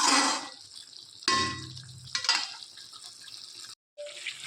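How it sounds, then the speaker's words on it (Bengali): Water is poured into a pot of cooking curry, a short splashing pour with clinks of a metal vessel, followed by quieter sizzling and a few faint clanks nearby, with no talking. "আর একটু জল দিয়ে দিচ্ছি, এটা এবার ফুটবে।"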